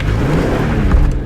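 A BMW E46 M3 CSL on 255 tyres with SMG gearbox accelerating hard with wheelspin, a loud, close engine rev and tyre spin filling the short burst, rising slightly near the end.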